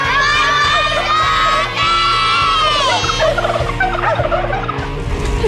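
A flock of turkeys gobbles loudly and continuously at a children's goodbye party for the birds, with children shouting and cheering throughout.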